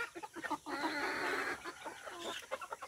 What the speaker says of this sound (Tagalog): This chicken are all native.